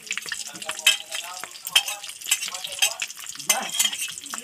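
Shrimp paste (alamang) and smoked fish (tinapa) sizzle and fry in a pan, with a spoon or spatula scraping and stirring in quick, irregular strokes close up.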